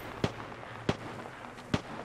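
Bangalore's ultimate artillery strike in Apex Legends lands as three evenly spaced distant booms over a low background hum, faint and far off.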